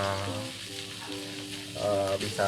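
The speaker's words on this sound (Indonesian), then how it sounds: "jadi sosisnya kita goreng sampai dia agak kering lah, jangan terlalu matang" Sausages fry in a pan until slightly dry, giving a steady, fairly loud sizzle that runs throughout with some tonal hum layered over it and no voices.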